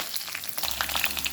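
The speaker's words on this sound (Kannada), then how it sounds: "ಒಂದು ಕರಿಬೇವಿನ ಎಲೆಯನ್ನು ಹಾಕ್ಕೊಳ್ತಾ ಇದ್ದೇನೆ" Curry leaves and green chillies hit hot oil, producing a bursty crackling sizzle with rapid spits and pops that thickens midway through the brief moment.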